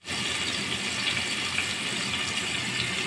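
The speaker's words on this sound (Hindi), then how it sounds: "थोड़ा इसमें मैं पानी ऐड करूँगी क्योंकि टमाटर गलेंगे" Water poured into a pan of frying masala with tomatoes, a continuous loud gushing, hissing pour lasting the whole stretch with no talk.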